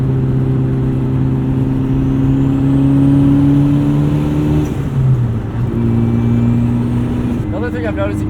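A 2005 VW Jetta GLI with the 1.8T turbo engine and an exhaust dump drones steadily while under way, its smooth tone holding through a brief dip around a gear change before it resumes.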